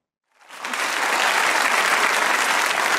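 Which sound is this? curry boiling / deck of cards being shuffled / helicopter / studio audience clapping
studio audience clapping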